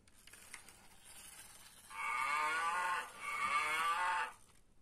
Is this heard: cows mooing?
yes